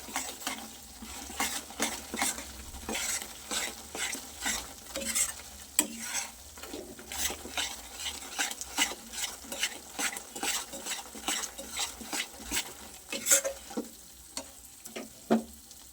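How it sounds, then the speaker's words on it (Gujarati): A spoon stirs a thick gundar sukhadi mixture of ghee, flour, ganthoda powder and crushed cashews and almonds in a pan, scraping in steady repeated strokes with a faint sizzle, close and alone without talk. "હવે બધું સરસ મિક્સ કરી લઈએ."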